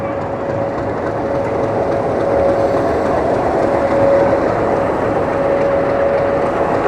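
A small four-coach passenger train on the Veraval, Delvada and Junagadh line pulls into a station, with a steady, loud rolling rumble and a faint sustained whine throughout.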